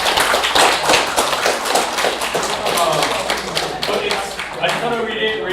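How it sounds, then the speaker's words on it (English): Meeting audience breaking into applause, dense continuous clapping throughout at close range, fairly loud, with some voices and cheers mixed in toward the end. "So let's give them a big round of applause."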